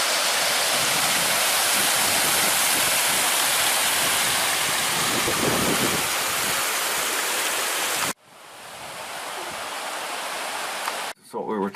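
Water flowing in Little Indian Creek near Branson, Missouri, a steady broadband rush close by for about eight seconds, then a sudden cut to a quieter, thinner wash with brief breaks near the end.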